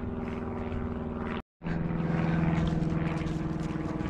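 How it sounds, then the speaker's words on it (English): A small propeller plane performing aerobatics drones overhead, its engine pitch rising and shifting, with a brief silent gap partway through. "we've got a little aeroplane here doing some aerobatics above our heads"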